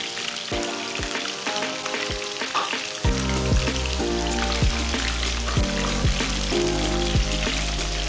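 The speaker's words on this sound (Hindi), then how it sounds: "ताकि चिकन हमारा अच्छी तरह फ्राई हो चुके।" Chicken pieces frying in a hot pan, a loud continuous crackling sizzle that intensifies midway, with rhythmic clinks of a utensil against the pan and no voices.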